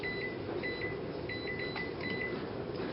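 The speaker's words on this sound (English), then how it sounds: "we'll put it back in the microwave for another 30 seconds" A microwave oven hums steadily while warming cheese curds, a low even drone with faint repeated higher tones and light clicks over it, close and quiet, with no talking.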